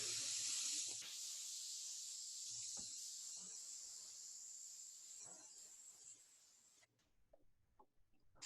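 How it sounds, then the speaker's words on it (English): Handheld spray gun hissing out chocolate spray in the kitchen, one long steady burst of about six seconds followed by a few short, fainter puffs and clicks. "So I'm just testing our spray here."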